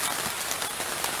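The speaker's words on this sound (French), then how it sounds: "Désolé pour le bruit, c'est la pluie." Heavy rain shower falling on a vegetable garden, a dense steady hiss of drops on surfaces filling the whole moment with no voices.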